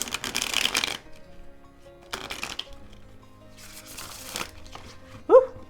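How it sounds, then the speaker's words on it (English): Everyday Witch tarot cards are riffle shuffled in three distinct bursts of crisp fluttering, close and clear, with quiet pauses between and a brief sharp sound near the end. "I think it will hold a bend after a lot of rifle shuffling, but let's test that out."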